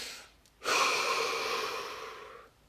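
A single deep inhalation, close and breathy, rising sharply and sustained for about two seconds before fading out, alone without talk.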